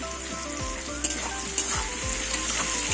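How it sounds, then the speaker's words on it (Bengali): Potatoes frying in a pan with salt, a steady close sizzle broken by a few stirring scrapes and clinks, with no talking. "এবার আলুগুলো একটু ভেজে নেব।"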